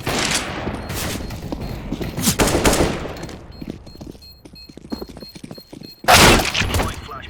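A flashbang grenade goes off during a Counter-Strike: Global Offensive casual match, amid bursts of rapid gunfire, with one loud, sharp bang standing out near the end.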